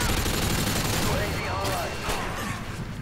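A Modern Warfare 2 ground war match on the Scrapyard map: dense, continuous automatic fire from a sentry gun fills the whole stretch, with whooshing sweeps and impacts layered over it.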